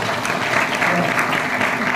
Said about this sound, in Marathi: माझ्या आईसाठी एकदा टाळ्या वाजवतो